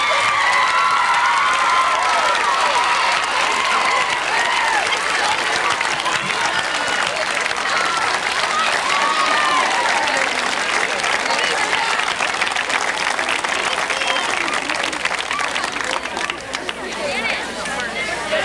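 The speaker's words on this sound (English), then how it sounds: "Let's have one more round of applause for all the graduates." A large crowd at an 8th grade graduation ceremony applauds steadily and loudly, with scattered cheers and voices mixed into the sustained clapping.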